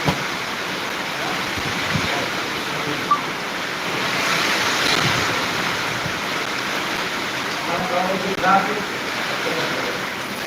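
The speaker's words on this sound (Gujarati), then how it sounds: "અત્યારે ગોંડલ તાલુકાનું મોટા દડવા ગામ વરસાદ ચાલુ છે" Heavy rain pours down in a steady, dense roar over Mota Dadva village, Gondal taluka, Gujarat, with gusting wind swelling and easing over it throughout.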